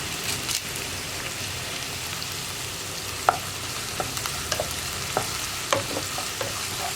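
Onion with salt and curry leaves fries in a pan for a raw banana and taro stir-fry, giving a continuous close crackling sizzle with scattered scraping taps as a spoon keeps stirring.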